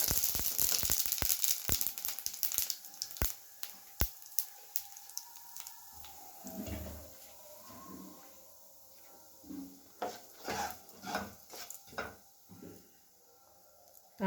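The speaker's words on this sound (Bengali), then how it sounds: "এবার ওই তেলের মধ্যেই আমি একটু জিরে দিয়ে দিলাম।" Cumin seeds dropped into hot oil left from frying paneer for palak paneer, giving a crackling sizzle that is dense at first and thins into scattered pops and soft bubbling spurts.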